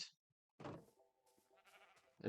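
A sheep in the Minecraft video game bleats in short, wavering game sound effects, a brief call at the start, a longer bleat in the middle and another at the end, all fairly quiet.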